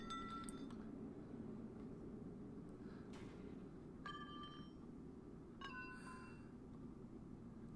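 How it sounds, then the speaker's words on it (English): In the video game FortressCraft: Evolved, a glow stick drops down a deep shaft, giving a few faint, ringing glassy clinks spaced out over several seconds against a steady low ambient hum. "can we drop a glow stick down here?"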